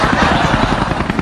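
A helicopter flies close by, its rotor beating out a rapid, steady chop of loud rhythmic thumps from start to finish.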